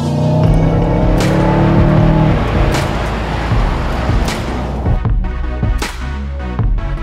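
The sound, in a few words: Mercedes CLA accelerating hard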